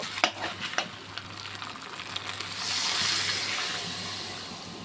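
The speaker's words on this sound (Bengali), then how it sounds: "এখন আমি জল দিয়ে দেব।" Water poured into browned mutton curry in a hot pan: steady frying sizzle with a few clinks at the start, then a broader rushing hiss as the liquid hits, close and moderately loud, no talking.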